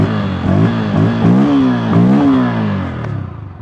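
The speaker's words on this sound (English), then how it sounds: "when you rev it, it begins to sound even better." Bajaj Pulsar N160 motorcycle engine revved repeatedly from idle, several rising and falling throttle blips close by and loud, ending with a brief settling rumble.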